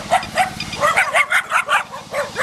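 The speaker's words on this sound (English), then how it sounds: "Neighbours' dogs." Dogs bark in a quick series of about eight close yaps, sharp and rhythmic, over a low steady hum.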